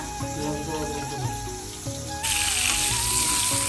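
Cut potatoes frying in a pan, a steady close sizzle with a sharper, louder hiss in the second half, over a low background of music-like tones.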